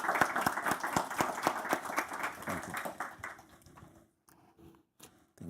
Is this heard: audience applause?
yes